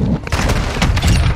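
Bursts of gunfire in a first-person shooter game, dense and loud, with overlapping shots and booms filling a short stretch.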